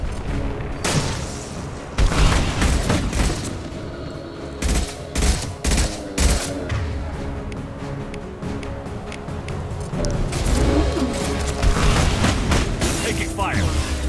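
Dense sci-fi gunfire from Mass Effect 2, with bursts and heavy booming shots crackling loudly and almost continuously over a thick battle mix, while a voice talks over the fighting.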